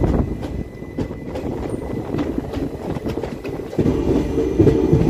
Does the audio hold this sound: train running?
yes